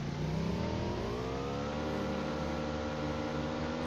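Scooter engine in a video game steadily revving as the rider pulls away, a continuous mid-pitched whine with rising harmonics, fairly loud and close with no talk over it.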